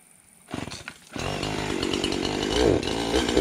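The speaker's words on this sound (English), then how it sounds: "It's a good saw. I highly recommend it. Has a thin curved chain, and it cuts pretty fast." A chainsaw with a 20-inch bar and a freshly sharpened thin curved chain starts up after a brief pull, then roars steadily and close as it bites into a tree during a removal job, with no talking.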